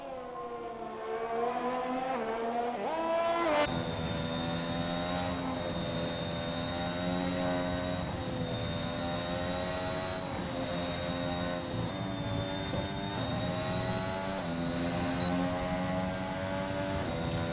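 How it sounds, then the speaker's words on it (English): Race car engine in a sim racing video game at a Saudi Arabia circuit, a steady loud high-pitched engine tone with rising and falling pitch as the driver lifts off and gets back on the throttle, continuous throughout with no talking. "You heard the lifting off and the throttle, but it gives you more control of your car"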